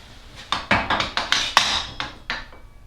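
Hammer or mallet blows on a chisel cutting a mortise in wood, about nine sharp taps in an uneven rhythm, close and fairly loud, with no talking.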